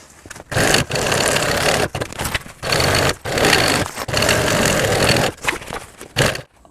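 A sewing machine stitches panels of a child's school bag in loud, close bursts of steady whirring, each run a second or so long, separated by brief pauses.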